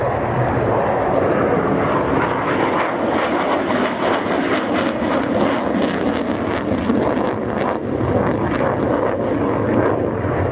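A Saab 37 Viggen jet fighter roars past at the 2014 Waddington airshow, its engine a loud, steady broadband rumble that fills the whole stretch with a little wind buffeting.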